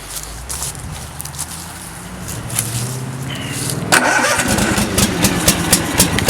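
Cub Cadet zero-turn mower engine cranking briefly, then catching and settling into a loud, steady idle close by.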